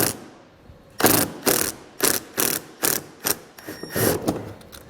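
Phillips head screws being backed out of a 2018 Ram ProMaster City during trailer hitch installation, heard as a run of about nine short, close ratcheting bursts in a steady rhythm, with no talk.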